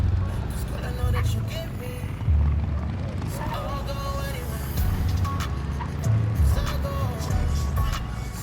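A vehicle engine drones low and steady while driving in the survival video game Once Human, with chill background music and a voice talking over it.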